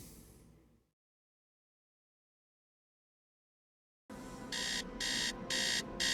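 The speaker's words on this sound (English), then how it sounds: "Beep, beep, beep, wakey, wakey, time to get up." Video game alarm clock beeping in repeated evenly spaced pulses after a stretch of silence, fairly quiet over a faint hiss, in Tales of the Neon Sea.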